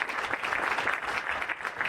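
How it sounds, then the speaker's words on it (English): Sustained audience applause fills the room at a community gathering honoring a local sheriff, a dense, steady patter of many hands clapping at once, with no voice over it. "Sheriff Eddie Guerra, Oscar Montoya, big round of applause to those guys."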